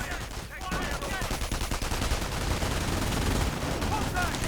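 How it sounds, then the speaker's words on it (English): Machine gun fire in a war strategy video game, with dense continuous rattling bursts and distant shots layered together, loud and busy throughout. "MG opening up somewhere."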